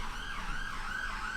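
An ambulance siren wails faintly in the distance, its rising and falling pitch sweeping steadily over low traffic rumble with no voices.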